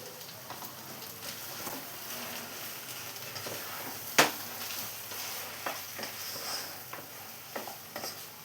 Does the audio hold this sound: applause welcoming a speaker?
no